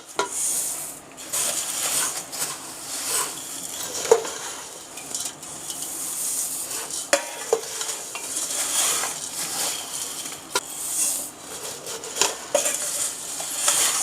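Roasted poha chivda is stirred in a pan, a continuous scraping and rustling of flakes with cutlery clinks and scattered sharp knocks against the pan, moderately loud and alone, with no talking.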